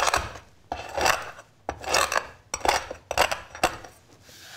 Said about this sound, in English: you use a skillet and you make it roll on top of it